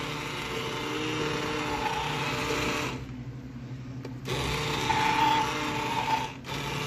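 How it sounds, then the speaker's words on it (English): An immersion blender whirs loudly and steadily as it breaks up onions and garlic in thick homemade BBQ sauce. The motor cuts out briefly twice, then starts again. "I've got my immersion blender. So I'm going to use this to break up the onions and the garlic that's in there"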